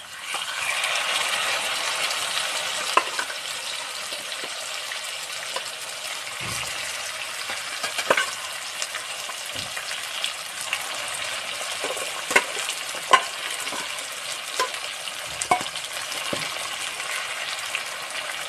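Steady loud sizzling of marinated white duck meat frying in a hot pan with fried onions, with occasional clicks and scrapes of a utensil, no talking.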